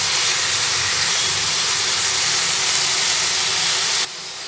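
Snake gourd pieces with turmeric fry in hot oil, a loud, dense, steady hiss and sizzle that cuts off sharply near the end.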